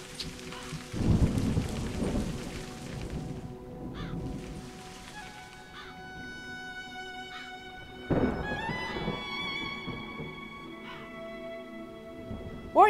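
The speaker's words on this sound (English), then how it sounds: "I'm gonna wait out the storm here." Thunderstorm with heavy rain in the video game A Highland Song: steady downpour throughout, with two loud thunder rumbles, one near the start and one around the middle, while faint musical tones ring in the background.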